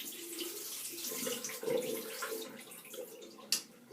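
Tap water runs steadily into a bathroom sink during a wet shave with soap, a continuous close splash with a brief louder slosh midway and a sharp drip or clink near the end.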